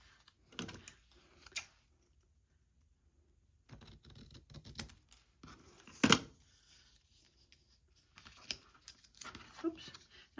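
Paper circles being folded and cut in half with scissors, heard as scattered crisp snips and crinkles in short bursts separated by near-silent gaps, close and fairly quiet.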